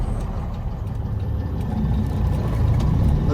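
Truck running a red light through a Memphis intersection, a steady low engine rumble under road noise that grows slightly louder as it passes.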